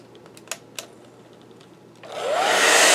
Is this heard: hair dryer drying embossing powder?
yes